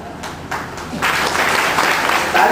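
Applause from an audience at a Bahujan Samaj Party gathering, a steady patter of clapping that swells louder after the first second and carries on to the end.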